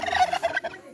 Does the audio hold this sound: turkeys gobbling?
yes